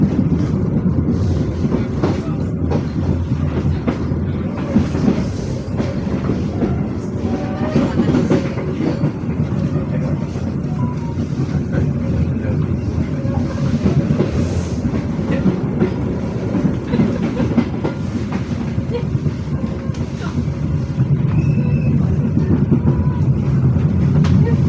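The Pandanwangi passenger train runs from Jember to Ketapang with a loud, continuous rumble and rhythmic clickety-clack of wheels on rails, sustained and close throughout.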